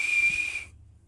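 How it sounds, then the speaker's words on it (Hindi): A single shrill, high whistle held steady for about half a second and then cut off, leaving near silence with a faint low rumble. "डोगा ने अल्ट्रासोनिक विशल निकाली"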